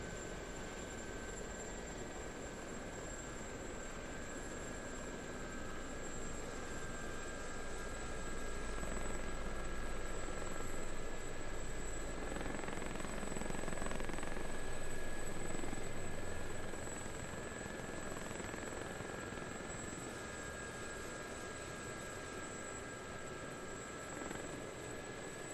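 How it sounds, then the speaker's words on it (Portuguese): Helicopter in a flight simulator game, a steady whirring rotor and turbine drone with a thin high whine that swells louder mid-way and settles again, no talk over it. "esse é um helicóptero que, por padrão, já não é um dos mais tranquilinhos de voar"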